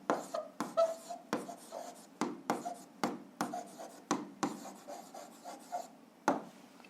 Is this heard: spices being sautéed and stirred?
no